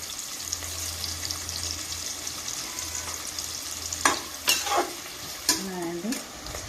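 Onions frying with curry leaves and a pinch of salt in a pan for a crab fry, a close steady sizzle with spoon stirring and clinks growing sharper toward the end, no talk.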